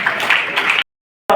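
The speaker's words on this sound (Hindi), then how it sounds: "खड़े होकर के तालियां बजाकर बेटियों का आशीर्वाद दीजिए" Audience at the Khelo Bikaner youth games closing ceremony standing and clapping, a dense burst of applause that cuts to silence briefly before resuming.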